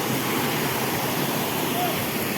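Chaparai waterfall in Araku, a steady broadband rush of water falling over rocks in the hills, continuous and fairly loud with no break.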